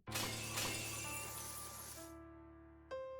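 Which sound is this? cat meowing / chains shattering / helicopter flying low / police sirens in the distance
chains shattering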